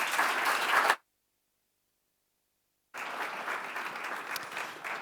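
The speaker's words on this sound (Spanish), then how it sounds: "a la que recibimos con toda la ilusión y un fuerte aplauso" An audience at a business event applauds to welcome a speaker, with sustained clapping, then a gap of silence, then more steady clapping.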